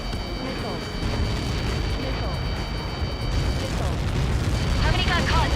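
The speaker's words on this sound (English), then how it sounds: "How many got caught in that explosion?" A large explosion in the Ace Combat 7 air-combat video game, a sustained loud rumbling roar that fills the whole clip with a broad, deep boom, mixed with game noise and radio chatter.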